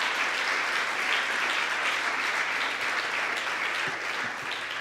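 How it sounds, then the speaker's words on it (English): Steady, sustained applause from a large audience at a startup conference in Slovenia, dense and even throughout with no pauses. "so big applause to all the people from foreign countries."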